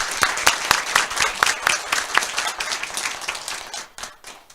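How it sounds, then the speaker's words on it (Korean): Audience applause welcoming a neurosurgery lecturer to the podium, a dense steady patter of many hands clapping for several seconds, close and lively, thinning out toward the end. "박수로 환영해 주시기 바랍니다."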